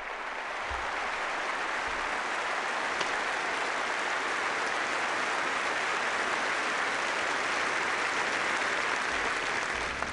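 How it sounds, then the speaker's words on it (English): Sustained applause fills a funeral service for a police officer, steady and dense throughout, with a faint voice or two beneath the clapping. "you can feel free to clap about that"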